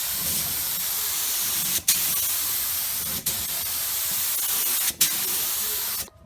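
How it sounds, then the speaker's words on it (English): Spray gun laying primer onto a car's quarter panel: a loud, steady, close hiss of atomised spray in long passes, briefly cut by short gaps where the trigger is released between strokes. "So we're going to go ahead and put 3 coats of primer on this."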